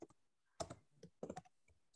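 Quick bursts of keystrokes on a QWERTY computer keyboard, close and crisp, in short irregular clusters separated by brief quiet gaps.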